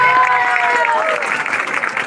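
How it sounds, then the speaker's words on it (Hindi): An audience at a village bhajan singing competition bursts into applause during an award presentation, a loud, dense clatter of clapping mixed with crowd voices and a sustained tone fading beneath it. "ताली तो बजा दें आप कम से कम"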